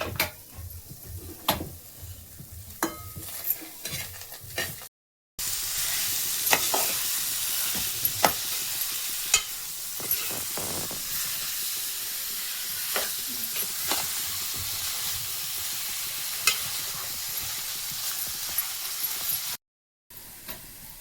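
Oil and ingredients for a village-style mutton curry sizzling in a pan, a continuous close hiss broken by ticking and clinking strokes, with two brief silent breaks.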